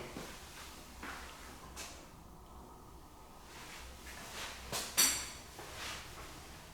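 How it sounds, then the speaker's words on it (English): A heavy interior door in a luxury home swings and thumps shut with a sharp, close knock near the end, after soft handling noises in a quiet room. "Heavy door."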